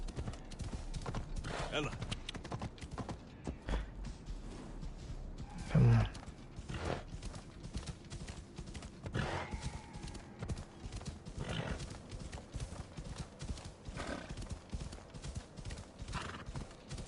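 Horse hooves clip-clopping at a brisk, steady gait in Assassin's Creed Odyssey, with a horse whinny and snorts mixed in, while someone talks over the galloping rhythm.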